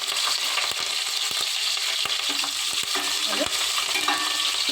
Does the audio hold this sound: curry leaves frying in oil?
yes